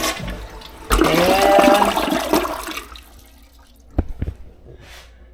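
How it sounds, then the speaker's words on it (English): A household toilet flushed by flipping its lever, a loud rushing burst of water that swells and drains away over a few seconds, then settles into quieter trickling and a couple of sharp clunks, with a brief spoken word at the start. "We got a toilet, and you just flip the lever,"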